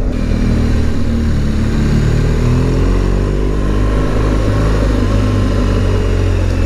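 A BMW R1200 GS Rallye motorcycle on a test ride: its boxer engine drones loud and continuous with the pitch shifting as it accelerates and eases, mixed with rushing wind, heard close from the rider's position.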